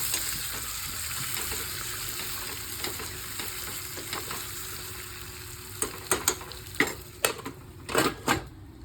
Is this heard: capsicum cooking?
yes